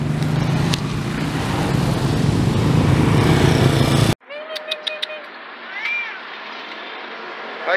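A cat in the Philippines gives a few short meows after a loud stretch of broadband outdoor noise cuts off, the calls near and fairly clear against quiet surroundings.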